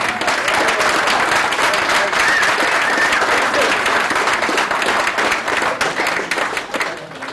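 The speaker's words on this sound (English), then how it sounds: "So please give a huge round of applause" An audience at a speaking event gives sustained, dense applause in welcome for a former heavyweight boxing champion. The clapping stays loud and steady for several seconds, then tapers slightly at the end.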